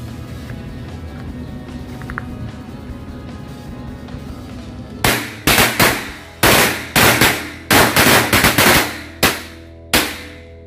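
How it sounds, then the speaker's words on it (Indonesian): Low background rumble, then a rapid burst of sharp, loud piccolo firecracker bangs popping in quick irregular succession before trailing off. "Yang pertama kita nyalakan mercon korek piccolo."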